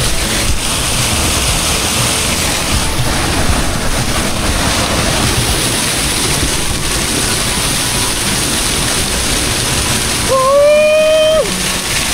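Steady, loud rushing roar of the Verkiai mill waterfall in Vilnius, Lithuania, at minus 14 degrees, constant and close throughout, with a brief high whistling tone near the end.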